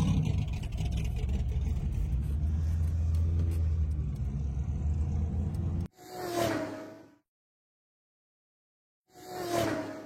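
A loud, rumbling AC Cobra sports car engine drones steadily, then cuts out and returns in two short revving bursts separated by silence.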